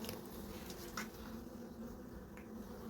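Honeybees hum in a continuous low drone during a spring hive inspection, a faint steady buzz with a few soft clicks and knocks from the frames being handled.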